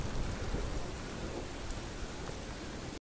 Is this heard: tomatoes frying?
no